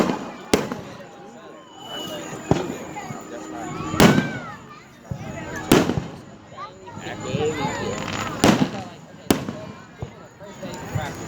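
Fourth of July fireworks burst in a series of sharp, loud bangs spaced a second or two apart, with crackling between them, under excited shouting and talk.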